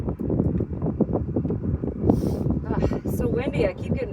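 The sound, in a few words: strong wind outdoors on a farm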